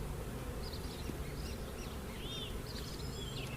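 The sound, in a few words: honey bees buzzing around an open hive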